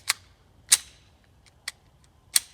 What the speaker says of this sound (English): I'm going to see if it racks one in perfectly fine, and then I'm going to mag dump it